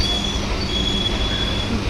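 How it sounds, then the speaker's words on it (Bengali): A Naihati local electric train starts to move, giving a steady loud rumble with a thin, sustained high wheel squeal throughout. "6:41, ট্রেনটা ছাড়বে।"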